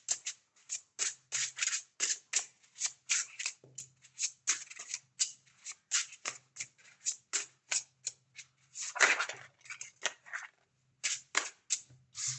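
A deck of tarot-style cards is handled and shuffled in a quick series of crisp, close card snaps and riffles, with brief pauses between bursts and no speech.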